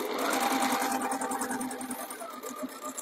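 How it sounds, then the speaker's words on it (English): A sewing machine runs steadily down the side seams of a pie crust cushion, a close, continuous whirring that eases slightly toward the end. "And sew down your side seams."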